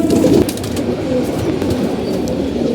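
Pigeons sit in sunlight and coo in low, soft murmurs. The cooing overlaps close by against a steady background hum, with no voices.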